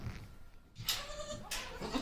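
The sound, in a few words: Barbari goat bleating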